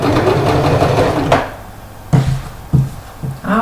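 Sewing machine stitching the side seam of a shirt: a fast, steady run of needle clatter, then it stops and a few separate heavy thunks and clicks follow.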